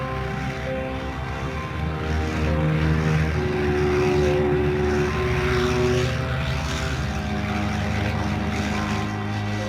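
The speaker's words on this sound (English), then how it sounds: "Admiral Byrd's aircraft flew 500 feet above the geographic South Pole." A propeller aircraft drones overhead with a steady, loud engine hum that swells slightly as it passes, with no voices.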